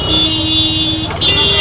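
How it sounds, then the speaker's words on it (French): Loud, sustained car horn blaring over street traffic noise near the spice market in New Delhi, with a brief break before the honking resumes. "qu'est-ce qu'ils aiment klaxonner"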